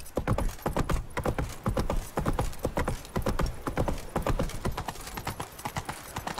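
Horse hooves gallop in The Witcher 3 video game, a steady rapid clip-clop that stays loud and close throughout, with no talk over it.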